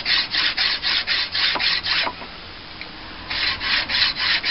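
Rhythmic rasping strokes of a file on the flat slab sides of a Bowie knife blade, a steady back-and-forth pulse of about a dozen strokes, close and loud, pausing briefly mid-way before resuming.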